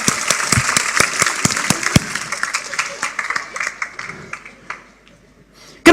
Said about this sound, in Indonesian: Wih, hebat, tepuk tangan lah.